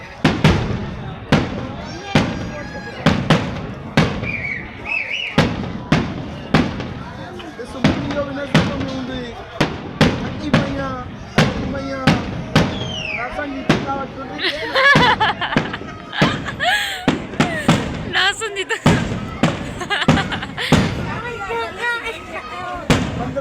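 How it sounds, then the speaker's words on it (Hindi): Fireworks burst outdoors at Nankana Sahib before a large crowd, with dozens of sharp, close bangs and crackles in quick irregular succession. Whistling rockets and people talking and laughing run throughout. "बाहर निकलते ही हमें फायरवर्क्स देखने का मौका मिला।"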